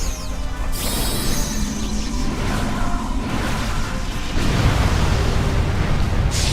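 Explosion in the video game Pokemon Shield, a loud, broadband crashing rumble that swells around the one-second mark and carries on, with a heavier low burst near the end.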